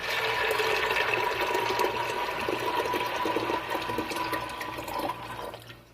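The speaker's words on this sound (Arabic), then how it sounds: "حطيت عليه حوالي لتر ونص من المية" About a liter and a half of water pours into a pressure-cooker pot holding fava beans, a loud, steady rushing splash close by that softens and tapers off near the end, with no talk.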